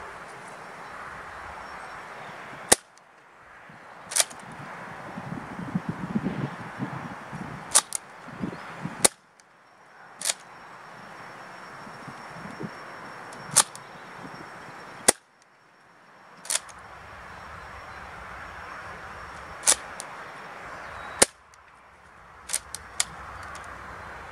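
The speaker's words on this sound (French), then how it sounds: "Je vais tirer 6 billes." Air gun firing six pellets at targets indoors: sharp, loud cracks spaced a few seconds apart over steady background noise, with no talk.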